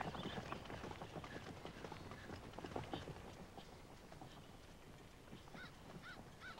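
Horse hooves clip-clop steadily at a moderate distance while a rider is out on horseback in an outdoor scene, the rhythmic hoofbeats continuing under low background noise.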